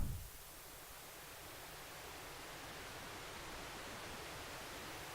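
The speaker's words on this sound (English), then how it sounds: "it's just supposed to be kind of calm, relaxing waves" Calm ocean waves synthesized from filtered noise on a subtractive synthesizer, heard as a soft, steady wash of hiss that swells gently, faint and alone after a brief louder burst at the start.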